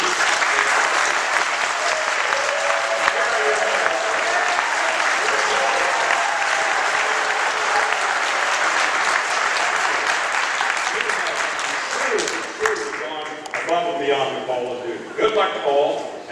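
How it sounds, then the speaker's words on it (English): Sustained, loud audience applause fills a hall at a startup pitch day opening ceremony as mentors stand, a dense even roar of clapping that begins to thin and break up toward the end, with voices emerging. "get a round of applause from your students"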